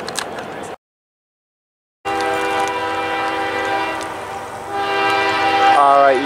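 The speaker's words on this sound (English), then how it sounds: "Another train northbound by Micro on the main track CXX Intermodal." A CSX intermodal freight train passes northbound on the main track, its horn sounding loud and sustained with layered tones. Steady rolling rumble follows an abrupt silent gap, and a brief brake-like squeal comes near the end.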